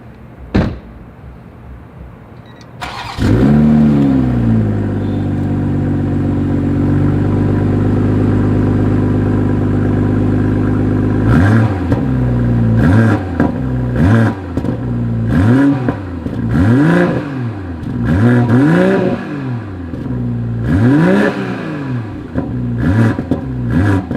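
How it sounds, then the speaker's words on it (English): A 2021 BMW M440i engine starts with a loud burst, idles steadily, then revs repeatedly in sharp rising-and-falling bursts with crackling exhaust pops, loud and close. "As always, here is that exhaust clip."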